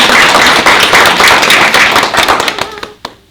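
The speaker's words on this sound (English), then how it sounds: "let's give her a round of applause" Audience applause at a talk on love bugs and houseplant pests, dense steady clapping from many hands that thins out toward the end, leaving a few scattered claps.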